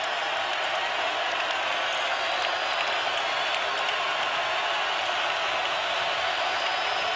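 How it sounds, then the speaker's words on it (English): A basketball arena crowd in Lubbock at an NCAA men's game, a dense sustained roar of cheering and noise at steady loudness, with no pauses and no clear voices. "Crowd on its feet here in Lubbock."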